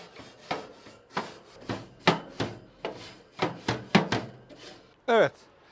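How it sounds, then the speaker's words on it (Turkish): Metal grill grates being scraped clean over ashed-over charcoal before grilling butcher-style meatballs: about a dozen close, rhythmic rasping strokes in a steady back-and-forth pattern, ending with a brief squeak. "Izgaralarımızı da temizledik."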